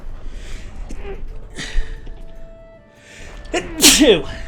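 A single loud, sharp human sneeze bursts out near the end, after a stretch of quieter background and indistinct vocal sounds, close and clear.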